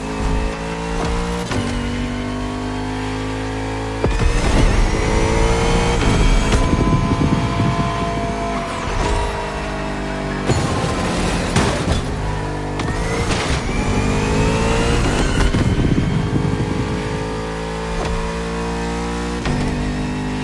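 Bugatti Vision GT in The Crew Motorfest racing game, its engine note loud and close, rising and falling through repeated revs and shifts for about twenty seconds with no talking.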